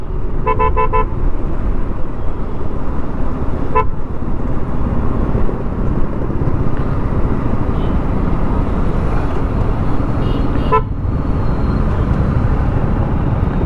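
Several car horns honk in short toots over a constant roar of heavy road traffic in Pondicherry during New Year celebrations, one early burst and a few more later.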